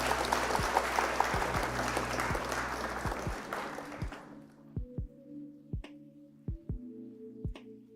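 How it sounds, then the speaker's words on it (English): A crowd applauds loudly for about four seconds, then the clapping cuts off and a few sparse, isolated thumps follow in near silence. "That deserves a round of applause."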